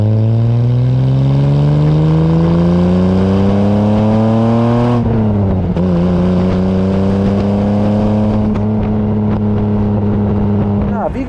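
A 1959 Mercedes 300 SL Roadster engine runs steadily and loud, its pitch rising as it revs, then dropping and settling into a smooth, even hum.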